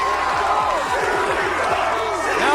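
Large wrestling crowd at a deathmatch show erupts as a wrestler kicks out at two, loud sustained roaring and cheering with a commentator's voice layered over it.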